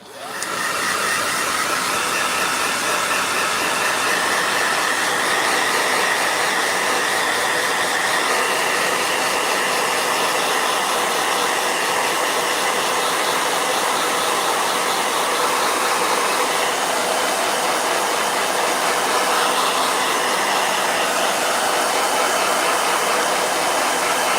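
A hair blow dryer starts up and runs continuously at close range, a loud, steady whooshing whine that holds without pause and with no talking.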